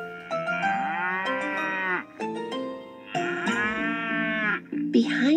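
Cows moo several times in long, drawn-out calls, close by, with short pauses between them.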